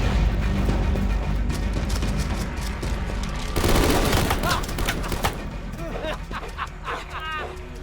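Gunfire in a Call of Duty Black Ops 4 video game cutscene: a loud, dense burst of shots erupts midway amid voices and barking-like noises, then trails off under more talk.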